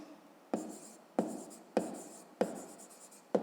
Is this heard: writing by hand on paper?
yes